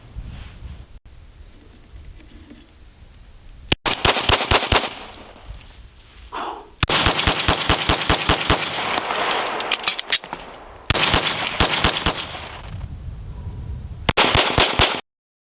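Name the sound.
Agency Arms Field Edition Glock 17 9mm pistol firing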